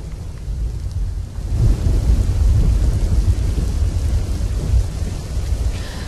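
Steady rain in Modasa and Shamlaji, Gujarat, with a deep, rolling rumble of thunder swelling in the low end, continuous and fairly loud with no voices.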